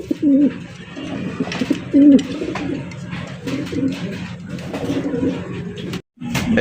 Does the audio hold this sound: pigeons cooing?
yes